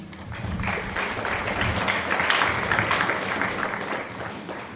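Audience applause at a high school ribbon-cutting function, steady and fairly loud throughout, dense overlapping claps with a few voices mixed in.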